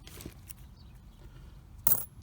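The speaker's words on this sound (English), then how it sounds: "More coins." Muddy coins recovered alongside silver clink together: a soft metallic tap early on, then one louder, brighter clatter near the end against quiet background noise.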